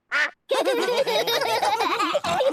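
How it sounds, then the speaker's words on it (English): A cartoon duck perched on a pig's head quacks in a short burst, then lets out a long, loud, raspy run of rapid quacks close up. "Daddy Pig, did you know you've got a duck on your head?"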